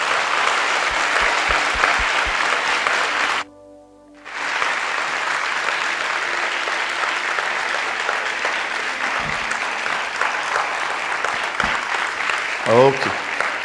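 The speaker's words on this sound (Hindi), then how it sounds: "क्या हम सब मिलके प्रभु यीशु के लिए एक जोरदार ताली बजा सकते हैं?" Church congregation applauding loudly for Jesus at a worship gathering, sustained clapping with a brief pause near the start, then steady applause continuing to the end.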